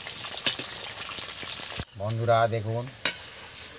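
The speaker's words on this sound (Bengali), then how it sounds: "হ্যাঁ এখন উচ্ছে ভাজা হচ্ছে" Bitter gourd (uchhe) sizzles in hot oil in a pan, a close crackling fry with sharp scraping stir clicks, then a voice talks briefly over it before a final clatter.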